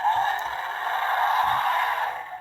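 Electronic roar from a Jurassic World Wild Roar Irritator dinosaur toy figure, a sustained, harsh, close roar with faint clicks underneath.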